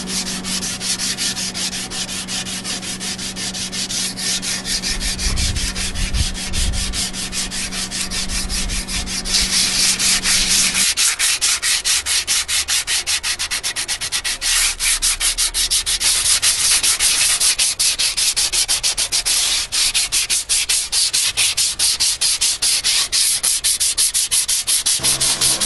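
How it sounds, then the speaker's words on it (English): A steel sword blade is polished by hand against the grain to remove angle grinder scratches, making steady rapid rubbing and sanding strokes that run continuously, close and fairly loud, with a low hum present early on. "now I have to go against that grain and basically just polish the whole sword by hand and get all of those scratches out"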